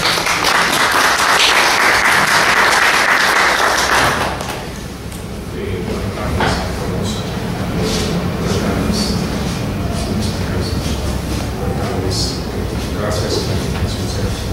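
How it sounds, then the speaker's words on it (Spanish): A conference audience applauds at the opening of a seminar, loud dense clapping for about four seconds before fading into room murmur and someone speaking. "le damos un aplauso para comenzar"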